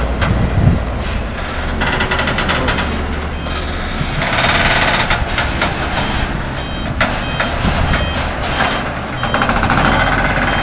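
A FAW JH6 460-horsepower heavy truck engine rumbles and strains at close range while maneuvering, with hissing air and intermittent high beeps, no talking.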